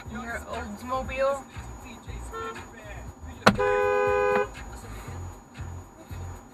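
A car horn gives one short sharp honk amid road traffic, loud and close, under ongoing talk from people inside a vehicle.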